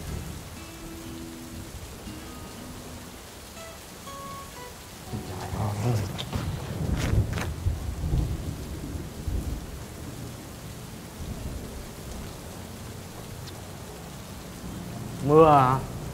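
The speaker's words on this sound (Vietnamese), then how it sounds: "Mưa à? Mưa." Heavy rain with rolling thunder, a low rumbling roar building in the middle amid steady rain noise, with brief sounds and voices at the edges.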